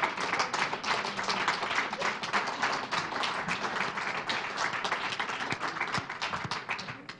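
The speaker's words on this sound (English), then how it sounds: "give yourselves a standing ovation and a round of applause" Conference attendees clap for themselves in a standing ovation, a quieter but continuous patter of many hands that thins slightly toward the end, with no talking over it.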